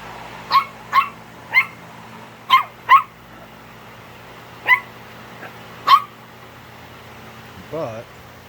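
A workshop dog barks in a garage where a 2005 Duramax LLY diesel is being repaired: about eight sharp, loud single barks spaced irregularly, ending in a short whimper, over a steady low mechanical hum.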